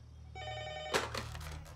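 A landline telephone bell rings in short trilling bursts indoors, one clear ring followed by a sharp rustle or handset pickup and faint clatter.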